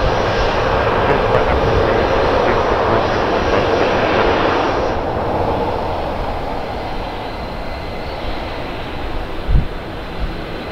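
A Luxair airliner takes off at Madeira Airport, its engines roaring loud and close and holding steady throughout, then easing slightly as the plane moves away.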